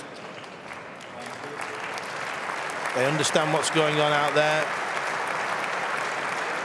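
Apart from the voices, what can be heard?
German crowd applauding at table tennis match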